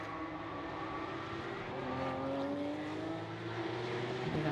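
A Porsche Carrera Cup race car brakes hard at the end of the straight at Barcelona, its engine note sliding down in pitch as it decelerates, loud and steady with other cars audible behind.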